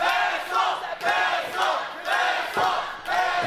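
Wrestling crowd at a live match shouting and roaring in loud surging waves, with brief dips between swells, a dense mass of voices close around.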